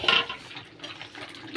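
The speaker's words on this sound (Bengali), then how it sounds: "এবার এই ভাজা আলুগুলো এর মধ্যে দিয়ে একটু কষিয়ে নিই।" Fried potatoes being stirred into mutton in a kadai, with a metal spoon scraping and clinking against the pan in a few brief strokes over a faint sizzle, close and fairly quiet.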